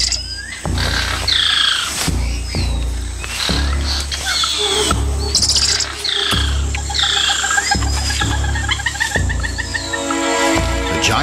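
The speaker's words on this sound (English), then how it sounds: "A squirrel monkey spots a harpy eagle and sounds the alarm, alerting everything in earshot." Harsh, repeated alarm calls ring out from a squirrel monkey in the Amazon rainforest canopy, loud and urgent, layered over a busy chorus of birdsong and chirps.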